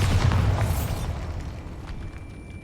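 Bombarda explosion spell cast in Hogwarts Legacy: a single loud, booming blast at the start, rumbling and decaying over the next couple of seconds, with no talking.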